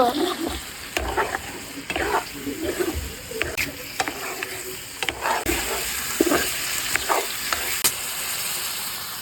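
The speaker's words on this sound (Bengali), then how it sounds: "তো এবার ভালো মতন কষিয়ে নিব" Steady sizzling of chicken liver stir-frying in a pan with repeated scraping and stirring clatters, close and fairly loud throughout.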